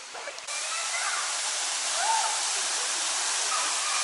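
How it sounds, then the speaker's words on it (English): El Salto waterfall in Mazamitla, Jalisco, pouring as a loud, steady, close rush of water that swells slightly partway through and continues unbroken. "So this is a waterfall in Mazamitla."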